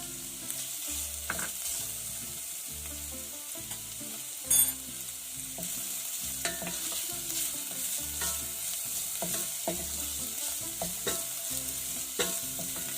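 Garlic and diced onions frying in oil and being stirred until golden and crispy, a steady crackling sizzle with rhythmic spatula scraping against the pan and one brief sharp clank, no speech.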